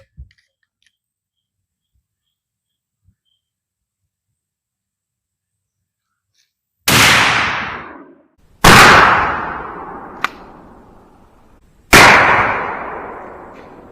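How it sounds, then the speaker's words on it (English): A 12 gauge shotgun firing Hornady Critical Defense 00 buckshot, three loud close blasts spaced a couple of seconds apart, each with a long decaying echo, following a quiet stretch with a faint click. "Here's the last shot with the Critical Defense."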